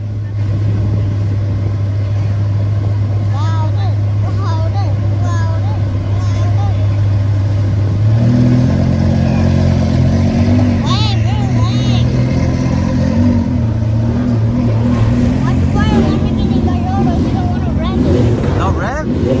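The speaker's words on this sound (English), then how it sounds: "Give us a rev." Engine idling and then revving up at a Cars & Coffee meet in Scottsdale, Arizona, a loud steady low drone that steps up in pitch partway through and holds, with people talking and calling out over it.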